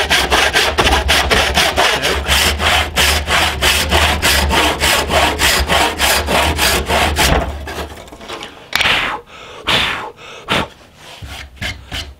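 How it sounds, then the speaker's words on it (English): Hand saw cross cutting timber for a timber-framed workbench, close and loud, with steady rhythmic rasping strokes that slow and become irregular after about seven seconds, then a few final scattered strokes. "I'm just gonna back my saw right up against the knife wall."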